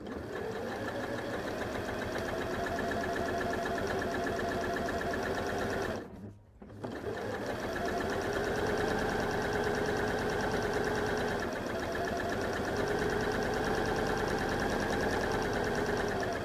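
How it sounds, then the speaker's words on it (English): A sewing machine runs a long continuous seam down the side of a fabric Morsbag, with a steady whirring hum and a rapid needle rhythm that stops briefly once before starting up again at the same even pace. "We're going to sew from the top to the bottom of the bag with it wrong sides together."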